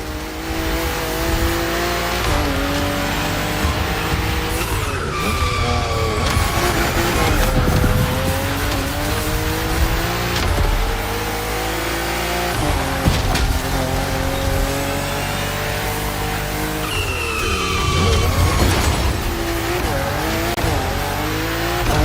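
A BMW M4 CSL races in The Crew Motorfest video game, its engine roaring loudly and continuously through upshifts and downshifts, with repeated tire squeals in the corners.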